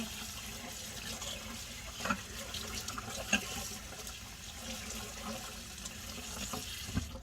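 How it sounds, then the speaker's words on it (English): Tap water runs steadily over a synthetic wig cap being rinsed, a soft, continuous splashing stream with a few faint knocks. "Making sure to rinse out the cap so we don't have any residue"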